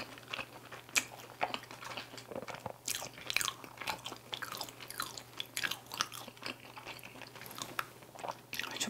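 Close, crisp crunching and chewing of Korean seasoned fried chicken, with irregular bites and mastication sounds over a faint steady hum.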